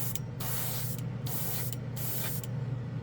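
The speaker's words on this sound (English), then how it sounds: "it lays down a nice shine with this airbrush" An airbrush with a 0.2 nozzle sprays gloss black base in three or four steady hissing bursts, each roughly half a second to a second long, close up and alone with no voices.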